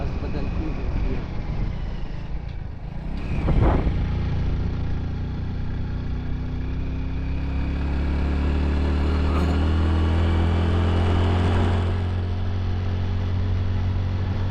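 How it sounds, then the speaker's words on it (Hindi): A motorcycle engine drones steadily and strains as it climbs a steep mountain road in the Koh-e-Sulaiman range, its pitch shifting, with wind noise throughout. "मोटरसाइकिल की आवाज़ बदलती रहती है।"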